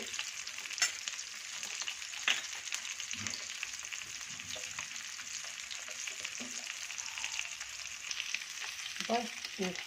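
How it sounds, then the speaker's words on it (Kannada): Fish fries in oil over medium heat in a pan, giving a steady close sizzle with occasional stirring scrapes and no talking. "ಮೇಲೆ ಎಣ್ಣೆ ಹಾಕಿ ಚೆನ್ನಾಗಿ ಮೀಡಿಯಮ್ ಉರಿಲೇ ಫ್ರೈ ಮಾಡ್ಕೊಳ್ಳಿ ಚೆನ್ನಾಗಿ"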